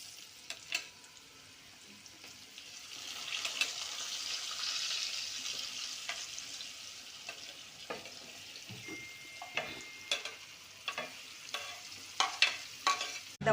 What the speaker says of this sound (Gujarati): હવે આપણે પરવળનો વઘાર કરીશું